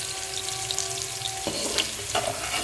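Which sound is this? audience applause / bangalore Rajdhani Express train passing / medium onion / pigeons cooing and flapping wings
medium onion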